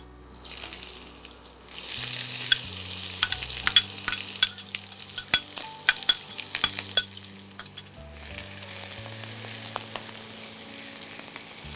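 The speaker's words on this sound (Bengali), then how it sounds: "পেঁয়াজটা পেঁয়াজটা ভাজবো" Sliced onions sizzle in hot oil in a pan for a Bengali mustard chicken curry, while a spoon scrapes and clinks against the metal in irregular strokes. The frying crackle stays steady and close.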